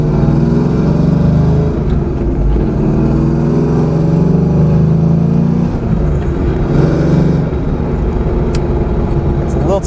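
A Pontiac Trans-Am WS6 driven on a damp road, its engine a loud continuous rumble that swells and eases with throttle changes, with a voice talking over it.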